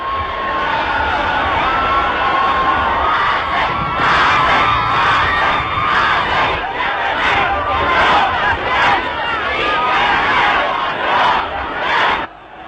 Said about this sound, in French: La foule maintenant n'est qu'un immense délire que rien ne peut endiguer.